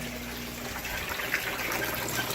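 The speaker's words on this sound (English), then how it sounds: "the drain out of the radial flow filter comes over here and drops into this sump tank" Water drains from a radial flow filter and drops into a sump tank in an aquaponics setup, making a steady close splashing gush with a faint low hum running beneath it.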